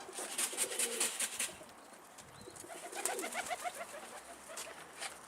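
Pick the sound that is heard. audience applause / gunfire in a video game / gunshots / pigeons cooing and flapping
pigeons cooing and flapping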